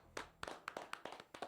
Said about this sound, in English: Should we give a brief round of applause?